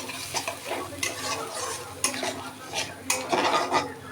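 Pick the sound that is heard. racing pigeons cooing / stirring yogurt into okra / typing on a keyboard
stirring yogurt into okra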